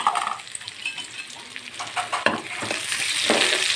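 Spices fry in hot oil, crackling and sizzling steadily up close, with scattered pops and a few scraping stirs; no one speaks.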